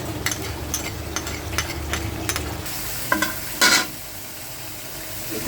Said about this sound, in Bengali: এখানে ব্লেন্ড করা মশলাগুলো দিয়ে দিচ্ছি।